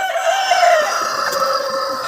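Australorp hens and other poultry cluck and call close by while eating barley and corn grain, with busy, overlapping farmyard calls and no talking.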